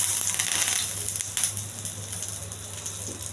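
Curry leaves sizzle in hot oil with a bright, dense crackle and spit, loud and close, easing slightly after a sharp flare midway.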